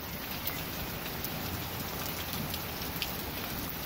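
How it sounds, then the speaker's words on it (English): Steady rain during a severe thunderstorm on a hot day, a dense even hiss of drops with faint scattered taps, moderately quiet and continuous with no clear thunder clap. "But that thunder though, guys, that was actually really loud, so that was close."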